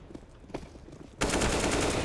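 Pistol fire in a Counter-Strike match at a BLAST Premier Grand Final, a couple of faint shots at first, then a sudden loud sustained burst of gunfire and noise.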